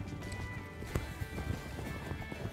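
Horse hooves run across an obstacle course, a quick series of soft thuds and clops at moderate distance over low rumbling background noise.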